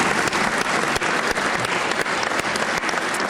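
Sustained applause from House and Senate legislators for the governor at the South Carolina State of the State address, a dense steady clapping filling the chamber without pause.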